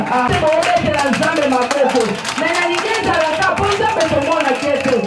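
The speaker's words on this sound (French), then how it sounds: "On applaudit pour le roi des rois quand notre pasteur fait son entrée" A church congregation claps to welcome the pastor's entrance, a dense steady patter of many hands under loud singing and music, with voices over it throughout.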